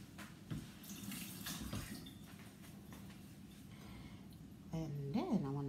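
Food is rinsed under a running kitchen tap while making century egg congee, a steady close splash of water into a sink with a brief voice near the end.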